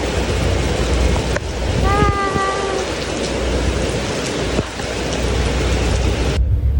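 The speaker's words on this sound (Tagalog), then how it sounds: "It's actually raining." Steady, dense rain falls outdoors in the Philippines, loud and close, with a brief whistling tone partway through and the rush cutting off abruptly at the end.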